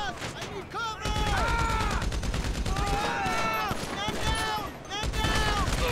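Dense, sustained gunfire from GTA Online, a rapid fusillade of shots running nearly the whole time, loud and close, with voices talking over the shooting.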